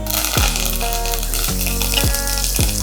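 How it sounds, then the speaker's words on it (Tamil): Mustard seeds and curry leaves tempering in a spoonful of hot oil for an egg aviyal, a close, steady sizzle with sharp crackles and pops recurring through the whole stretch. "கடுகு தாளிக்கிறதுக்கு."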